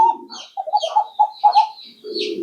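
Fancy pigeons at a pigeon farm coo close by in a series of soft, rolling, throaty calls with brief pauses between them, clear and alone.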